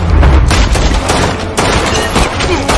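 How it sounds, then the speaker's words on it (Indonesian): Dense, loud gunfire in a movie shootout between gangsters, with rapid overlapping shots and booming bursts that continue without pause. "dilanjutkan dengan sebuah baku tembak antara Russell dan sisa anak buahnya Dahyun yang berada di tempat itu"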